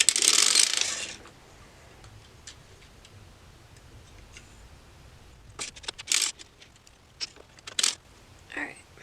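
A hand-cranked circular sock knitting machine being worked while needles are lowered, giving a loud burst followed by faint ticking and a cluster of sharp mechanical clicks and clacks near the end.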